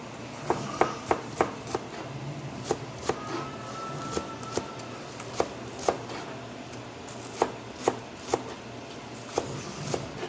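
A knife chops scallions (green onions) on a cutting board in a steady series of crisp, close taps with short pauses between strokes, no talking.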